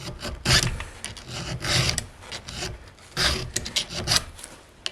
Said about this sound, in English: it's no big deal sharpen a chainsaw